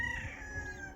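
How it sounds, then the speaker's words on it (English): A blue-faced rooster crows once, a sustained call at moderate distance in a backyard flock with new hens. "That's a blue-faced rooster."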